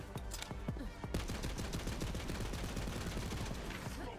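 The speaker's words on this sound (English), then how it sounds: "Thing is, you just don't reload this weapon because then you just let Moze reload it." Sustained rapid automatic gunfire from a weapon in the video game Borderlands 3, a dense continuous stream of shots, loud and close throughout.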